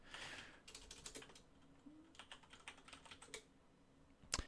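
Rapid clattering keystrokes on a computer keyboard come in several uneven bursts separated by short pauses, fairly close and moderately loud, ending with a sharper final tap.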